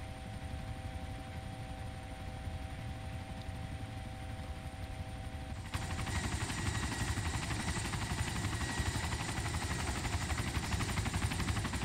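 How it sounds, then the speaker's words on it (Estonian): Helicopter flying in the video game DayZ OverPoch, an Arma 2 mod: a steady droning rotor and engine hum that jumps louder and brighter partway through, then holds, with no talking. "Mul on, et see kopteri hääl vali pole."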